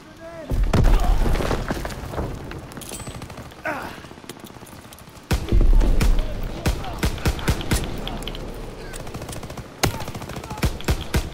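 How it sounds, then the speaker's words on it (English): A grenade explodes amid World War II gunfire in Call of Duty WW2's D-Day battle: two heavy booms land several seconds apart, surrounded by dense rattling shots, while voices shout over the combat. "Grenade out!"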